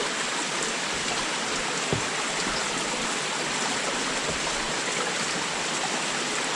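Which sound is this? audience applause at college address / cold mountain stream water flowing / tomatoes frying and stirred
cold mountain stream water flowing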